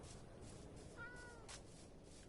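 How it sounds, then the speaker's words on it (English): A cat in the Minecraft video game gives a single short, faint meow over a quiet background. "Oh, kitty cat."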